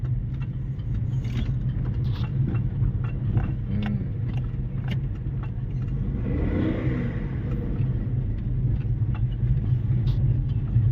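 A car engine hums steadily at low revs while driving during a lesson, heard from inside the cabin with small clicks and rattles over the continuous rumble, no talk.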